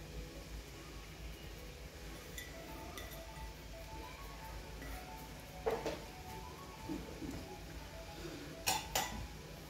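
Carrot halwa is stirred in ghee in a large kadhai, with soft scraping strokes over a low sizzling background and a few sharper metallic clinks of the spoon against the pan, quiet and close.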